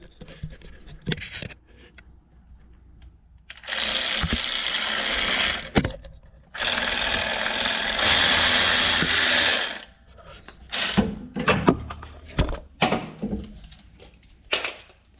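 A power tool whirs in two sustained bursts while removing bolts from the suspension of a Mustang GT500, with ratcheting clicks and clanks before and after.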